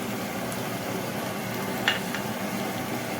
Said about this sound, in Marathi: यामध्ये मी मिरची टाकते बारीक कापून घेतलेली